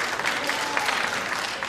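Studio audience applause on the Tonight Show with Johnny Carson: a short, loud, even burst of many hands clapping, dense and unbroken throughout.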